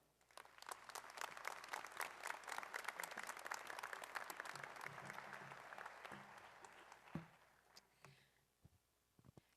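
A large audience at the 2017 Brunswick Community College commencement applauds warmly to welcome a speaker to the stage; the clapping is dense and steady for about eight seconds, then thins out into a few scattered claps.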